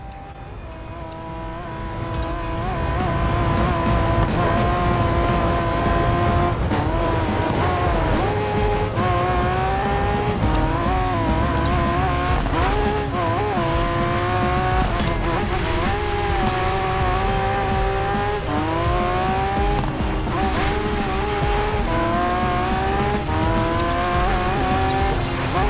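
A Lamborghini Aventador hypercar racing in the Racing Master video game, a loud, steady high-pitched engine roar with shifting revs and gear changes running continuously for about twenty-five seconds, alone.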